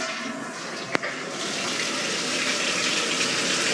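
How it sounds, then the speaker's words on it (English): Toilet flushing in a house during a final walk-through, a steady rushing gush of water after a brief click, continuous and fairly close with no talking. "Toilet flush great."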